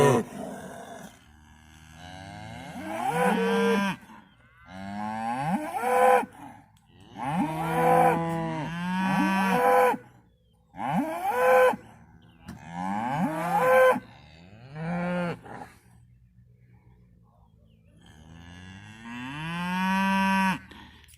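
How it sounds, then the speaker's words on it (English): Cattle moo again and again, about a dozen long, loud, drawn-out calls spaced by short pauses, close and clear with no talk. "It's a cow."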